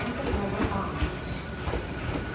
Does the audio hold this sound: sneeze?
no